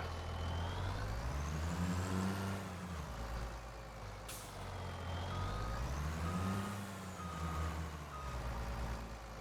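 A truck in the farming game Farming Simulator sounds steady reversing beeps over a continuous idling engine rumble, close and even throughout, with a short hiss partway through and no talk.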